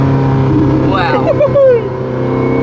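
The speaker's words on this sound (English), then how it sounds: "It's so loud as well with the exhaust right behind." A car's engine revs hard through a loud exhaust mounted right behind the occupants, the roar swelling briefly over a steady cabin drone while someone exclaims in excitement.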